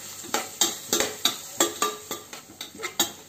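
Ginger garlic paste with slit green chillies and onion being sautéed and stirred in a pan, a steady run of scraping strokes roughly every third of a second over a soft sizzle, close and alone with no talk.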